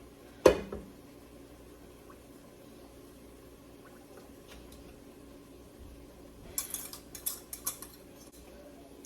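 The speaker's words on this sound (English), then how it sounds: "you can whisk it up and get the clumps out" Sugar and cornstarch get whisked into milk, opening with a sharp clank of metal on a bowl, then a quiet pause before a burst of rapid, light clinking whisk strokes close by.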